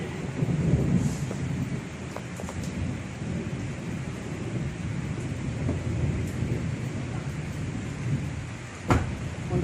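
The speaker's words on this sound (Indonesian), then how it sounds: "Hujan." Steady heavy rain with rumbling thunder, a continuous wash of rainfall and a few low rolls, with one sharp loud crack near the end and no talk.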